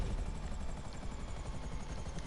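A helicopter lands in a video game, its steady rotor chop throbbing fast and even throughout, a moderately loud mechanical whir heard alone with no talk.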